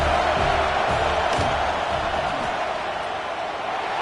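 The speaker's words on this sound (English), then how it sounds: "This crowd trying to do its part to get inside the kicker's head." Football stadium crowd roaring during a field goal attempt, a dense continuous loud wash of cheering and noise from many people throughout, with no clear individual voices.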